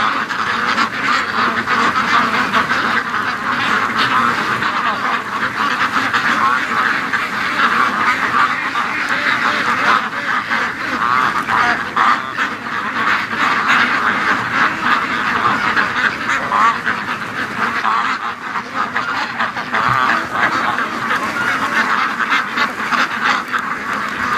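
Ducks quack steadily outdoors on a windy autumn day, a loud, dense chorus of overlapping calls with some honking, carried over constant wind noise for the whole stretch.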